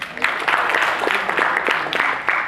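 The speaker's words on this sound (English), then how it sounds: "Give her an round of applause." Audience at a lecture at MSRIT breaks into applause, a dense burst of many hands clapping that swells quickly and holds steady for a couple of seconds before tapering.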